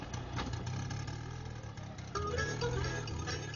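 An auto rickshaw's small engine runs steadily, then rises in pitch and throttle as it pulls away, a continuous close mechanical drone with no voices.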